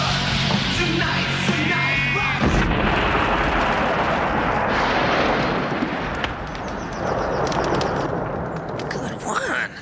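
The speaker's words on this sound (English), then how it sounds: "So they blow up a car at one point, and it is a significant explosion." A car blown up in the 1987 low-budget splatter film Bad Taste: a loud booming explosion with rumbling debris, heard beneath someone talking over it, followed by crackling aftermath and scattered sharp sounds.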